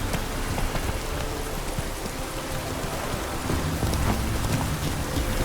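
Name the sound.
rain downpour in video game The Witcher 3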